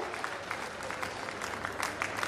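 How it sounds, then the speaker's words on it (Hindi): A crowd at an outdoor public event in Mandla, Madhya Pradesh claps to welcome a guest, a fairly faint, steady wash of distant applause with scattered sharper claps and no clear talk. "जोरदार तालियों की गड़गड़ाहट आपके स्वागत के भाव को अतिथि तक पहुंचाती है।"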